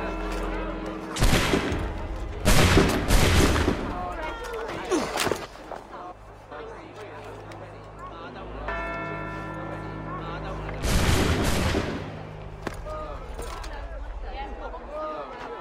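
A musket volley in Assassin's Creed III Remastered, with loud cracking bursts of gunfire in a few clusters, the last after a quieter stretch, mixed with game sounds.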